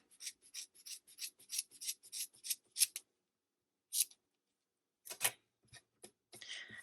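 Scissors trim the ends of crochet yarn braids on a turkey hat, giving a quick run of crisp, evenly spaced snips, then a pause and a few scattered cuts, close and alone.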